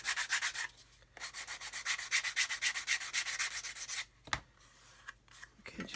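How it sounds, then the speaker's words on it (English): Steady rhythmic sanding strokes rasp back and forth close up on a plastic Buccaneer model kit, pausing briefly twice before a final short burst. "and then on this side we can sand away"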